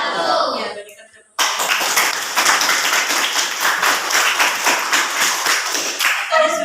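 Classroom audience clapping hands in a steady burst of overlapping claps after a group presentation, loud and close, beginning abruptly after a brief lull and continuing throughout, with a voice heard briefly before and after.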